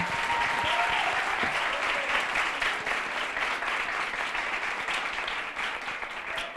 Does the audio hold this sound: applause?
yes